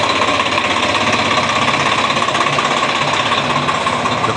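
A fully modified Swaraj 855 tractor engine runs just after starting, a loud, close, rapid chugging and knocking idle that hammers steadily throughout without speech.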